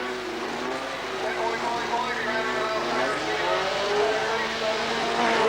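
Volkswagen Beetles drag race at Bug Jam, their engines droning loudly with a rising pitch beneath constant commentary from an announcer.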